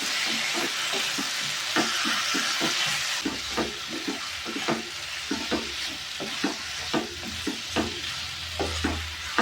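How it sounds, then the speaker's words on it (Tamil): Repeated scraping strokes of a spoon stirring chicken coated in spice paste in a hot pan, with a steady sizzle and frying hiss underneath throughout. "அப்படியே இந்த பேஸ்ட்டில் படுற மாதிரி கலந்து விட்டுக்கலாம்."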